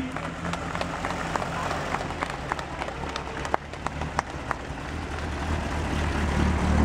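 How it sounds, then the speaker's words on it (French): Onlookers clap outdoors after an old Citroën B12 Torpédo starts, scattered sharp claps over a loud, continuous rumbling engine idle and background crowd noise. "Applaudissez-la"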